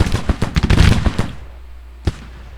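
Artillery counter-battery fire in a Civil War strategy video game comes as a dense rattle of loud, rapid cannon blasts that fades into a low rumble, followed by one more isolated boom.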